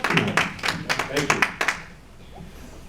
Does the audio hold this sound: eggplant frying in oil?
no